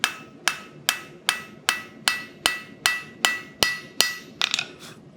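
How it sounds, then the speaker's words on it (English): Steady sequence of about eleven sharp, ringing hammer blows on hot steel over an anvil at a blacksmith's forge, evenly spaced and close, with a quicker cluster of lighter taps at the end and no talk. "So I'm overlapping blows. Every blow is overlapping the next one."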